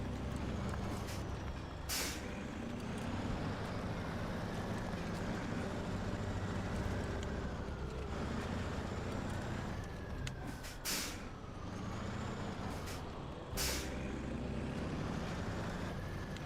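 A truck engine drones steadily in the SnowRunner game, struggling to make a turn, with loud air-brake hisses bursting in at intervals and a rising and falling whine running through the continuous rumble.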